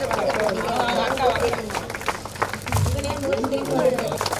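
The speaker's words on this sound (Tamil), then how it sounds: "நாம் எல்லோரும் கைத்தட்டுங்க." Audience clapping for a prize winner at a Christmas celebration: a steady, dense patter of many hands lasting throughout, with a murmur of crowd voices underneath.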